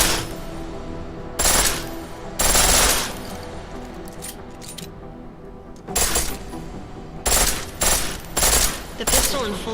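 A pistol firing on full auto in Deus Ex Mankind Divided lets off repeated loud bursts of rapid shots, separated by short quieter gaps, over a steady game background.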